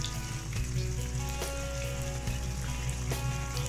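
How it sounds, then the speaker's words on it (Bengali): Milk poured into an egg korma masala frying in a pan, giving a steady loud sizzle with a few clinks and stirring sounds, and no talking. "এখন এখানে আমি এখানে জাল করা দুধ, এক কাপ দুধ দিয়ে দিব"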